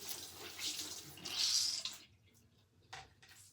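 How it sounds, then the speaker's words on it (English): Water running from a tap to wet a makeup beauty blender, a close splashing rush for about two seconds that stops abruptly, followed by a few faint clicks. "So I'm gonna wet my beauty blender."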